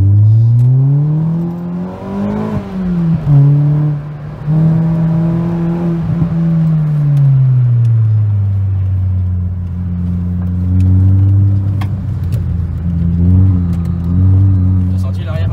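Peugeot 206 RC engine accelerating from inside the car, a loud close drone rising in pitch through the gears with dips at each shift, steady cabin rumble beneath, and people talking over it at times.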